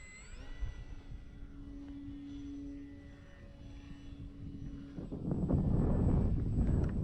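Gusty wind buffets the microphone at a radio-controlled plane flying field, building into a loud rushing roar near the end, while the thin engine whine of an FMS Ranger 1800mm model plane drones faintly overhead.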